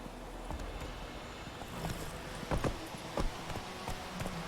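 The horse Roach's hooves clip-clopping in the video game The Witcher 3: Wild Hunt, steady rhythmic hoofbeats at moderate distance over a low background rumble, without speech.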